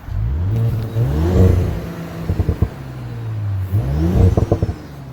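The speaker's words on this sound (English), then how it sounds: "Holy man, that engine." A 2019 Audi S5 Sportback engine revs loudly nearby in two sharp bursts, each climbing and falling back, with crackling pops after each rev.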